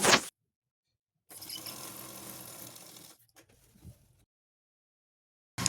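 A sewing machine stitches a puff sleeve onto its lining near the zari edge, running in one steady burst of close mechanical whirring for under two seconds, then a few faint handling clicks before quiet.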